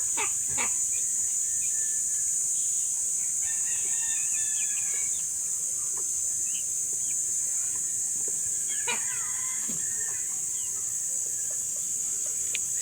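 Scattered clucks and short calls from heat-weakened chickens sound over a steady, high-pitched electrical hiss, with occasional sharp taps.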